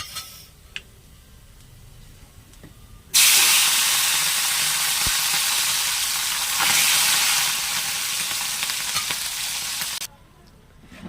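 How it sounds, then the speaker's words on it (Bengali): Mourala fish full of roe hit hot oil in a pan and burst into a loud, steady, spattering sizzle that lasts about seven seconds before cutting off abruptly. Quieter pan sounds come before and after. "তেলে যেই দিয়েছি না ছিটকে আসছে ডিমগুলো"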